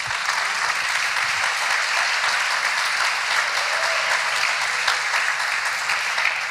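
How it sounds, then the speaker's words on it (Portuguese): A church congregation applauding: continuous dense clapping from many hands filling a large room, steady and fairly loud throughout with no pauses. "Forte esse aplauso à palavra do Senhor"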